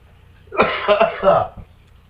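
A single close cough, a short harsh burst breaking into a couple of rough pulses, heard alone with a quiet background.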